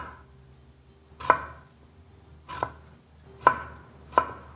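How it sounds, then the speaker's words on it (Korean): A knife slicing peeled yellow squash thinly on a cutting board for a vegetable hotpot, four crisp separate knocks spaced about a second apart, close and clear over a quiet background. "호박은 아주 얇게 썰어주세요"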